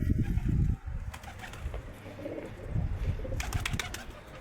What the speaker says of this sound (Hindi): भाइयों, लाल नफ्ती कबूतरी है।